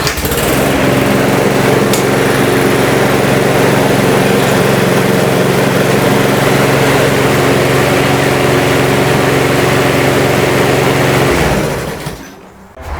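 A Briggs & Stratton lawn mower engine, just fixed at the carburetor and smoking slightly, fires up and runs at a steady, buzzing, close-up drone, then shuts off near the end.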